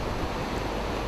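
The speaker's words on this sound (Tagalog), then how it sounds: "Naglalakihan din ang mga along humahampas sa pampang." Big waves pounding the shore during Super Typhoon Nando, a loud continuous roar of surf mixed with heavy wind buffeting, with no voices.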